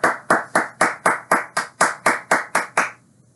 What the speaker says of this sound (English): Round of applause, please, please, please.